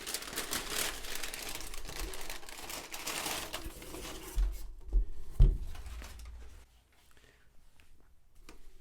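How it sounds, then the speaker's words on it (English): A G-Shock watch box is unwrapped from paper, giving close crinkling and rustling with a few thumps of handling. The sound fades to near silence after the paper comes away. "Let's get it out of this paper."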